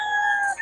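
A rooster crows once in a short, clear call at a gamefowl market where banded fighting cocks are sold, its note rising and holding before a quick drop at the end.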